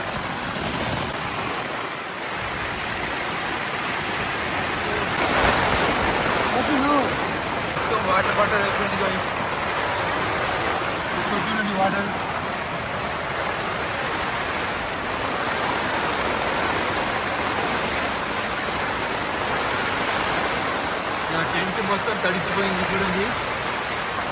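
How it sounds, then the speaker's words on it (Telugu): Heavy rain beats on a tent on a hilltop, a dense steady hiss filling the whole stretch, with a voice talking faintly beneath it at times. "టెంట్ మొత్తం చూడండి కదులుతూ ఉంది వర్షం నీళ్ళు అయితే లోపల కూడా వచ్చేసాయి"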